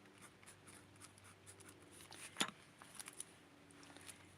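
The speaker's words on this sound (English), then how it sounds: "I'm going to make my notations that I need to take that much for Tootie." A pen scratches out notations on a paper doll sewing pattern, quiet close-up strokes in short irregular bursts with a sharper mark midway.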